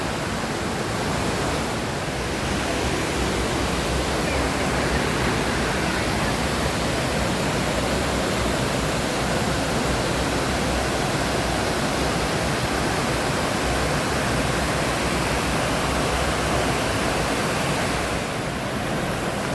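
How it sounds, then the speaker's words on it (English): A steady, dense roar of falling water at Lucifer Falls, loud and constant throughout with no pauses or voices. "now we're scaling the top of the waterfall"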